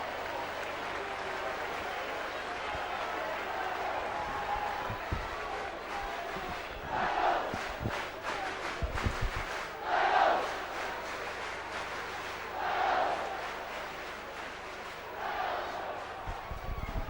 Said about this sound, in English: the crowd and the noise of the Leeds supporters